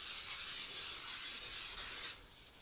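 A hand rubbing over freshly painted metal on a restored 1940s Preway P4522 stove, a soft, close swishing friction in several uneven strokes.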